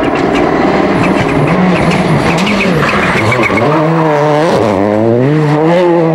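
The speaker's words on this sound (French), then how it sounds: "Duval ne roule pas, il danse avec Prévost et la Focus" Ford Focus rally car at speed on a Monte-Carlo rally stage, its engine loud and close throughout, revs rising and falling through gear changes with tyre scrub as it slides through corners, no talk.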